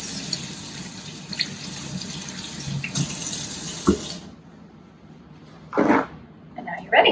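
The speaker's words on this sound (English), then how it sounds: "And then we do a good rinse." Hands being rinsed under a running kitchen tap, a steady close hiss of water that stops midway, followed by a few short splashes and bumps.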